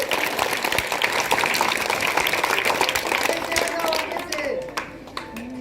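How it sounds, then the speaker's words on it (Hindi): A crowd at a middle school graduation ceremony claps loudly and steadily for a student, dense applause fading near the end as a voice speaks over the dwindling clapping. "चलिए सिद्धार्थ कुमार के लिए जोरदार ताली बजाइए।"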